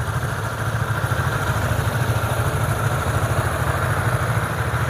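A Yamaha R15 V2 motorcycle engine idles steadily up close, a continuous low throbbing rumble with even pulsing and no talk.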